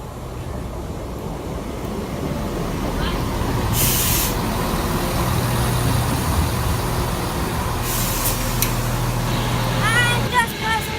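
A Class 170 Turbostar diesel train approaches and passes through Tamworth station with a steady rising rumble and a low drone, broken by bursts of hiss, while someone talks over it.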